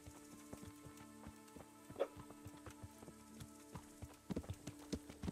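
Horse hooves clip-clopping in the medieval video game Kingdom Come: Deliverance, an uneven walking rhythm of soft thuds at moderate distance, quiet under faint background ambience, with a few sharper steps near the end.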